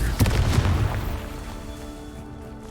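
A Confringo blasting curse explodes in Hogwarts Legacy, a loud booming burst at the start that rumbles and decays into a long fading tail.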